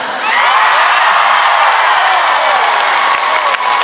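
A concert crowd at an outdoor cultural festival music event cheering and shouting loudly, a dense sustained roar of many voices with whoops, filling the space from start to finish.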